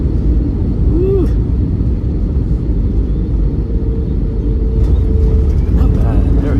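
Viva Aerobus Airbus A321neo landing at Mexico City, heard from inside the cabin as a loud, steady low engine and airflow rumble that fills the whole clip, with brief faint noises on top.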